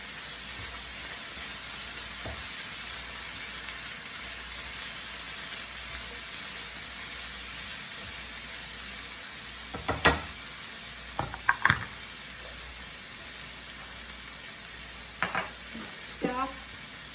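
Onions, ginger and garlic sauté in a pan for a Parsi chicken in tomato sauce, a steady soft sizzle running throughout with a few clacks and scrapes of a spoon stirring near the end.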